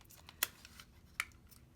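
Scissors trim the edge of stamped paper, giving two crisp, quiet snips less than a second apart against light paper rustling.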